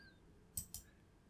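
Computer mouse clicking twice in quick succession, faint and close in a quiet room.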